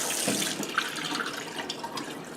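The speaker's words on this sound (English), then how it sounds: "It takes a little while for the water to start pushing its way through the mask." Tap water runs steadily and splashes against an N95 respirator mask held under the stream at a sink, a continuous close hiss and patter with no voices.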